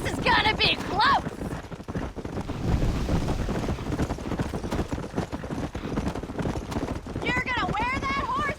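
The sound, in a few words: horse galloping in video game Red Dead Redemption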